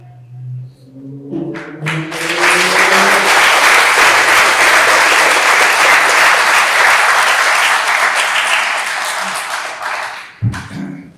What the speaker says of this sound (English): Next time we get the outburst of clapping, it will be the last one.